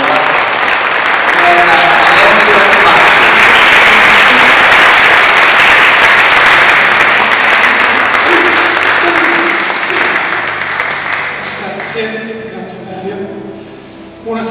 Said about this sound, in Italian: io vorrei un profondissimo applauso, ne faremo uno adesso